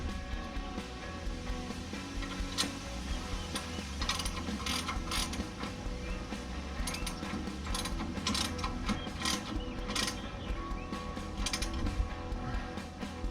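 Steady clicking of a ratchet wrench tightening a 5/8 shock absorber bolt during a Hotchkis adjustable shock install, close and repetitive, with a brief spoken remark.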